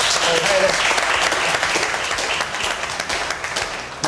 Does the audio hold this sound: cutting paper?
no